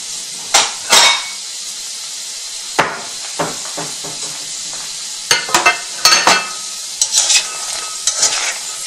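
Pork belly renders in a pan of hot oil over medium-low heat, with a steady sizzle and scattered close clinks and scrapes of a utensil stirring against the pan.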